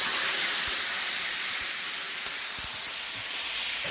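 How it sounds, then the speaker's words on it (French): A sausage pan is deglazed with a splash of Edelviker, giving a loud, continuous steam hiss that stays steady for four seconds, with a few light clicks and pops underneath. "on va déglacer un petit peu la poêle avec un petit coup d'Edelviker"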